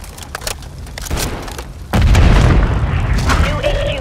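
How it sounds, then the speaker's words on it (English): A grenade explodes in Call of Duty Modern Warfare III as a loud, close boom that follows a few seconds of gunfire and battle noise. "Reloading! Throwing grenade!"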